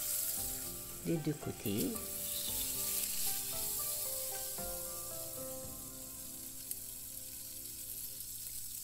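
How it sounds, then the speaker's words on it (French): Marinated beef shank sears in hot oil in a pan, a steady close sizzle running throughout, with a brief voice speaking early on over the frying. "On va déposer notre pièce de bœuf qui a bien mariné. On va la faire revenir"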